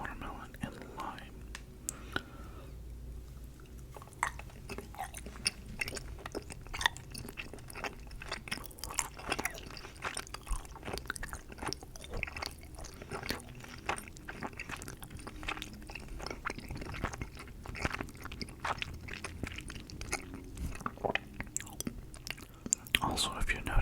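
Close, soft chewing of cherry, watermelon and lime gummy candies, with wet squishes and small crunches repeating steadily under a quiet whispering voice throughout.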